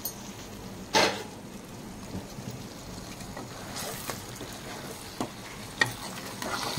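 Eggplant pieces being stirred in a pan with tamarind broth for a curry, with a few distinct scraping or stirring strokes over a faint simmering background, nobody talking.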